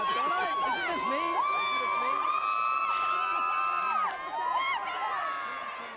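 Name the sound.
sorority girls cheering in football stadium crowd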